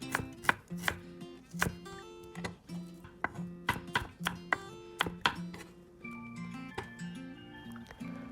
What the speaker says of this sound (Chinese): 准备2根小葱切成段， 然后将姜和蒜切成丁